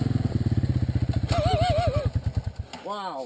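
Off-road motorcycle engine chugging in rapid, even pulses as it pushes through a deep puddle, with a voice whooping over it partway through and splashy clatter.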